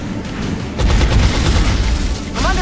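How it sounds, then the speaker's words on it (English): Gunfire in the tactical strategy game XCOM Enemy Within, Long War mod: a dense burst of shots strikes about a second in and rolls on as a loud, sustained rattle until the end. "I'm under fire"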